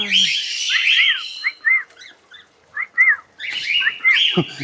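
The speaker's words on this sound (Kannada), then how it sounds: "ಓಹೋ, ಇಲ್ಲಿ ನೋಡಿ ಗಿಳಿಗಳು." Parrots in the Wayanad jungle give sharp, bright chirping calls and whistled squawks in quick bursts, loud and nearby, with short quiet gaps between clusters.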